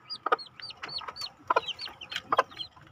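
Three hybrid fighting-rooster chicks and their mother hen are heard nearby. High, sweeping peeps repeat in quick succession, and short, low clucks from the hen are scattered among them.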